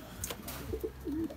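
Pigeons kept in a loft coo softly in a few short, low notes followed by a longer rolling coo, moderately close, with no talking.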